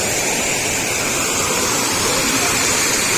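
River water roars through the gates of a dam at the Jayamangli River point near Hindupur, a loud, continuous broadband rush that fills the scene without a break.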